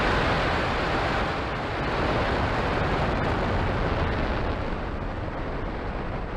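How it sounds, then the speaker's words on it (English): Falcon 9 rocket engines igniting at liftoff for a Starlink launch: a loud, continuous broadband roar that rumbles steadily and thickly throughout, with no voices over it. "Engine full power and liftoff of Starlink 437."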